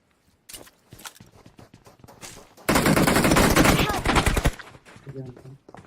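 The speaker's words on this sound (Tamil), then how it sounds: "ஃபயர் சவுண்ட் ஜாஸ்தி கேக்குது ப்ரோ" Gunfire in the battle royale game BGMI: light clicks and steps lead into a loud, dense automatic burst lasting about two seconds, then quieter game sounds as players chatter.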